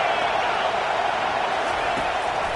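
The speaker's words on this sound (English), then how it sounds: "Decibels rising as the crowd gets behind this defense on third down." A stadium crowd in the NCAA 25 college football video game roars steadily behind the defense on third down, a thick, constant wash of cheering at moderate loudness.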